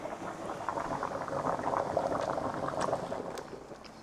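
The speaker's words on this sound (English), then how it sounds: "So the pasta is done boiling." Pasta boiling in a pot of water on the stove, a soft, steady bubbling and popping heard close up and unbroken for a few seconds, without speech.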